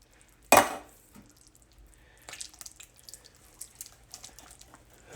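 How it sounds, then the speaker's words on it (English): A sudden splashing plop comes as canned beans are dumped into a pot of slow-cooked chili, followed by faint scraping and stirring clatter. "Now I'm going to take these beans and dump these beans in here."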